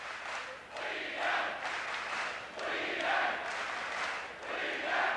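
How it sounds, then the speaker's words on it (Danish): Boxing arena crowd roaring and cheering at the start of a Dickie Ryan versus Vitali Klitschko bout, a broad, sustained wash of many voices rising and falling at a moderate distance. "Og så er publikum helt op på navlerne."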